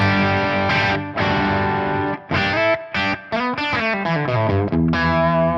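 Heavily distorted high-gain electric guitar through a TONEX X-Stasy 35 amp model, playing loud sustained chords and choppy stabs with short pauses and a descending run, no voices.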